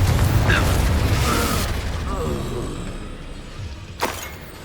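A Confringo spell blast in Hogwarts Legacy, a loud fiery boom that decays into a rumbling tail and is followed by a sharp crack, with character voices calling out spells.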